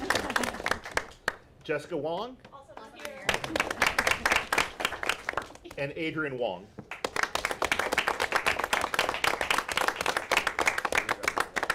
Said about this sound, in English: We'll clap anyway.